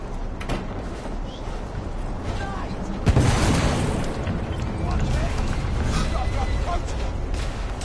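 A heavy blast erupts about midway, then a sustained low rumbling roar aboard a damaged ship in a PS4 video game, with scattered faint effects before and after.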